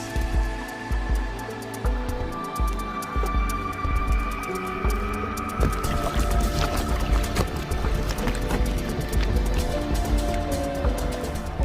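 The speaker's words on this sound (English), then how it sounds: "The sound of bubbles popping, the sound of ice grinding against itself." Sea ice jammed in Sierra Cove, Antarctica, crackles with dense popping bubbles and low grinding as floes rub together, a continuous close texture of clicks and rumbling with no talk.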